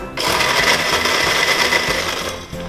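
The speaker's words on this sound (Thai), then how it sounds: "เปิดเครื่องปั่นเลยแล้วกันนะ" A blender roars loudly and continuously, churning milk and ice with a rough, grinding texture before stopping.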